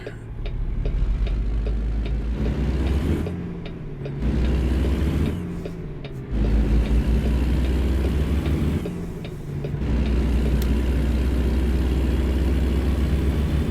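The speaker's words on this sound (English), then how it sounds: "I think I could turn off that engine brake." Truck engine in American Truck Simulator, a steady low diesel drone with deep rumbling that dips briefly a few times as the load eases, running continuously close up with no talk.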